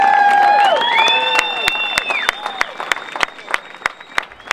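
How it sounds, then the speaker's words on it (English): Rally crowd with kids in strollers and waving flags, cheering and clapping loudly at first, then easing into scattered claps and calls that grow sparser and fainter. "the crowd enthusiastically cheered to words of the speakers"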